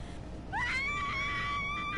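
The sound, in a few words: character screaming in video game Heavy Rain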